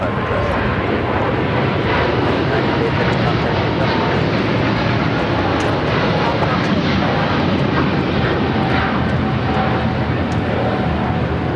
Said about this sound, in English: Air China 777 rolling down to 25 right.